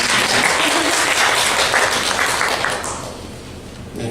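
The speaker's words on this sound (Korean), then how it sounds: "박수로 환영하겠습니다." A church congregation claps loudly to welcome visitors at a Sunday service, a thick close burst of applause that fades noticeably in the last second or so.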